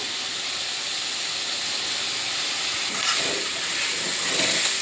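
Chicken masala fries in a pan with a broad, hissing sizzle that rises slightly toward the end, close and steady, with no talking heard.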